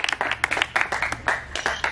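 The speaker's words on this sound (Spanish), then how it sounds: "Esos son los aplausos para la final" Audience applause after a rap battle final: a short burst of rapid, irregular clapping from a crowd, fairly close and continuous for under two seconds.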